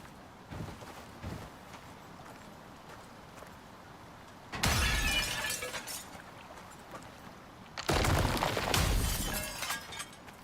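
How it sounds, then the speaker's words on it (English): Glass shatters harshly as it is taken apart in the survival game Icarus, two loud bursts of breaking crash several seconds apart over quiet ambience. "It sounds so severe when you take glass apart."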